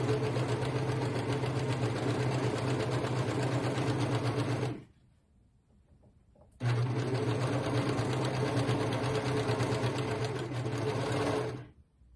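Sewing machine stitching poncho fabric around the neckline, a loud, fast, steady mechanical whirr running for about five seconds, stopping for a short quiet gap, then running again just as loud before tapering off.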